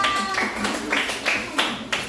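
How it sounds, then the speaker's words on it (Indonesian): Pupils in an elementary school classroom clap together in a series of sharp, rhythmic bursts, about five group claps at short intervals. A voice speaks briefly at the start. "Tepuk tangan."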